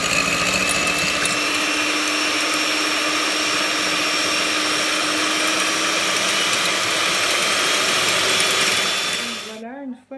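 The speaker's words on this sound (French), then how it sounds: "on va maintenant passer au montage des blancs en neige. Donc là, il ne faut pas hésiter à vraiment les faire très fermes" An electric hand mixer whips egg whites to stiff peaks for a chocolate Yule log, a steady close, loud whirring drone with a high motor whine that runs unbroken for about nine seconds and then winds down and stops.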